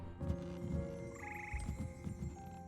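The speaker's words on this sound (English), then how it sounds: "the slimy yet symphonic frogs that comprise the Hogwarts Frog Choir" Hogwarts Frog Choir frogs croak in Hogwarts Legacy, deep rhythmic croaks pulsing in a regular pattern alongside a brief higher trill, fairly close and steady throughout.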